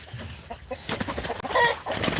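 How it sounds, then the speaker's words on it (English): Chickens perched on a branch cluck in short, fairly close bursts, with a few sharper squawks breaking in toward the end. "Chickens here on a branch."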